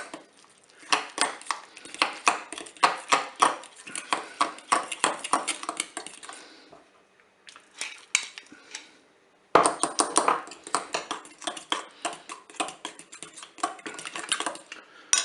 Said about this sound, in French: on va mélanger avec la crème fraîche